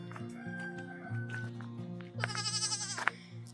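A goat on a homestead gives a wavering bleat late on, quiet against a background of steady tonal hum and low rumble.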